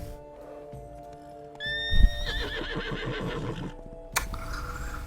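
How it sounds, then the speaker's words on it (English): A horse with red eyes in The Witcher 3: Blood and Wine gives a loud, clear neigh with hoof clip-clops beneath it, and a sharp thump follows near the end. "What kind of horse is this?"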